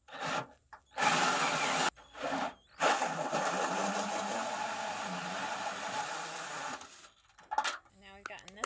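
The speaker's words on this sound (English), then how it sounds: "we're gonna drill right into our gutter" A hole saw drilling into a metal rain gutter, a loud, steady grinding whine that runs for several seconds, broken by a few brief pauses, close by outdoors.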